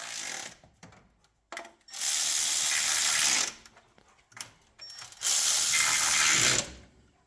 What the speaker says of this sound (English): let's throw our valve cover back on and check that again